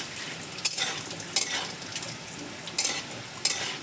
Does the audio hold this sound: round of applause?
no